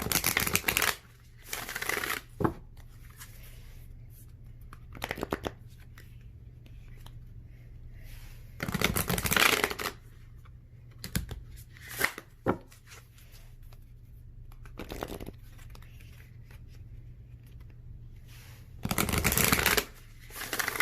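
A deck of tarot cards being shuffled by hand in repeated crisp bursts, riffling and flapping close up with quiet pauses between each round.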